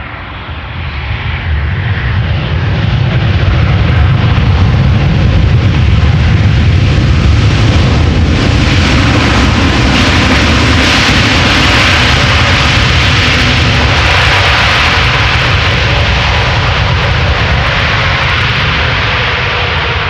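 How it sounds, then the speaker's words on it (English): An Aeromexico Boeing 787 Dreamliner arriving from Mexico City at Amsterdam Schiphol, a loud, sustained jet roar that swells and holds as it passes close by, with no voices. "Aeromexico flight 25 arriving from Mexico City"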